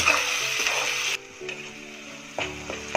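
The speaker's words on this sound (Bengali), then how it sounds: "এরপর এটা ভালো করে কিছুক্ষণ নাড়বে" Mutton liver masala with ginger, garlic and onion stirred in a frying pan, a hissing fry that cuts out abruptly and returns, with light scraping taps, close and fairly loud, no talking.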